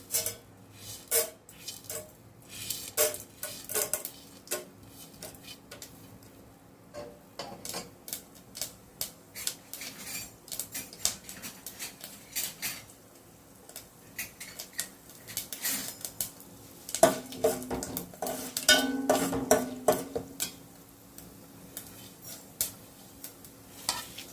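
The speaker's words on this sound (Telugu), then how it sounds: "నేను చూపించిన తాలింపు సామాన్లు అన్నీ ఒక్కొక్కటిగా వేసేసుకోవాలి" Sambar tempering spices added one by one to about three tablespoons of hot oil and stirred, giving a long run of rapid clicking and scraping against the pan over a faint sizzle, close and fairly quiet, with no talking.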